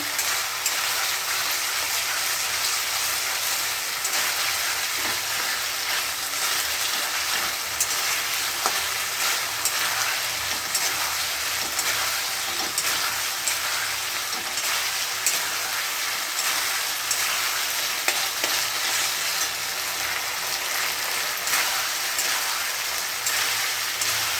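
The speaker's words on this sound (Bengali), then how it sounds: "জিরে বাটা, আদা দিয়ে, কাঁচা লঙ্কা দিয়ে কষে নিচ্ছি" Cumin paste, ginger and green chilli fry in a pan with onion and garlic, giving a dense, continuous sizzle close by, with faint stirring scrapes and no talking.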